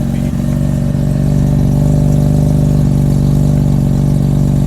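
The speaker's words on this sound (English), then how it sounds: "I can hear a little more exhaust note there. Yes, it's all rotary style racing beat exhaust." A 1979 Mazda RX-7 with a Wankel rotary engine and a Racing Beat exhaust idles nearby, a loud, steady, throbbing low hum with an even pulsing rhythm and no speech.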